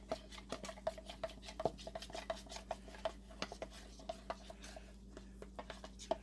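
A spoon scrapes and knocks around a pot of shepherd's pie filling in a steady, repeated rhythm of close, light metallic taps and scrapes over a faint steady hum.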